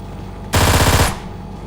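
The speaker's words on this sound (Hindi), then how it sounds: "अब देखो ये आता है, इसे हेडशॉट मारता हूँ, नोक देता हूँ।" An M24 sniper rifle fires in PUBG Mobile, a single loud, close blast about half a second long with a rapid rattling texture, then quiet game background.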